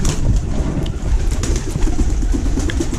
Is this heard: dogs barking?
no